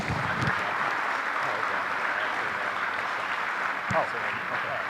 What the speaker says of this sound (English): let's give a big hand to all those that are caregivers